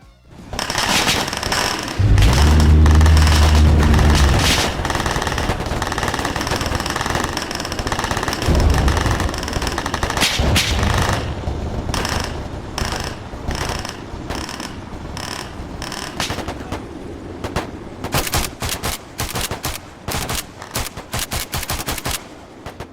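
ARMA 3 gunfire, vanilla sounds set against the SRS Dragonfire sound mod: loud bursts of automatic fire and rapid shots, dense at first, then sparser single and clustered cracks toward the end, with no voices.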